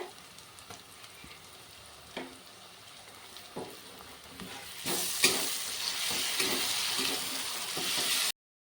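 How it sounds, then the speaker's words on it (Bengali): Spice pastes for a village-style chicken curry frying in a pan, quiet sizzling with occasional spoon knocks that swells into a louder, brighter hiss midway as more paste goes in, then cuts off. "এখন হালকা করে এগুলো আরেকটু ভেজে নেব কাঁচা গন্ধটা যাওয়া পর্যন্ত"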